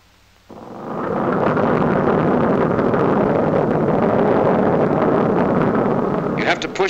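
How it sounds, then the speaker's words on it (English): A B-29 bomber's radial piston engine catches and roars steadily from a standstill, loud and close, with a broad rumbling drone that holds for several seconds and a faint clatter near the end. "presses the starter switch to energize, and then flips it to start"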